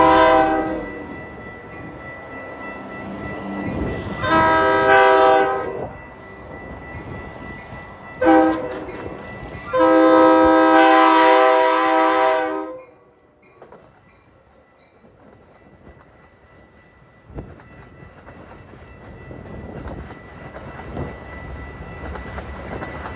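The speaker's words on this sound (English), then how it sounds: "we catch the action, starting with a Metra train inbound to Chicago." A Metra commuter train inbound to Chicago passes at Rondout, Illinois, sounding loud repeated horn blasts over the rumble of its approach, then fading to a quieter rolling rail noise as it moves away.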